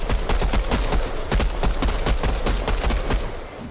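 Rapid pistol gunfire in the Fortnite video game, a steady string of sharp shots fired in quick succession, loud and close with no talking over it.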